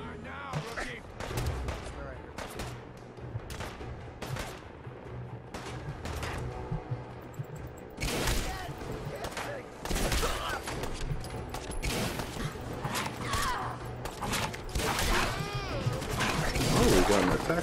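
Gunfire in Fallout 4 as a fight with bandits breaks out, with repeated shots and bursts growing denser and louder toward the end, mixed with impacts and crashes, while voices talk over it at times.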